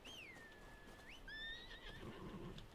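A horse in a Game of Thrones video game lets out a long, wavering whinny followed by a second neigh, then hooves clip-clop softly, all fairly loud with no talking.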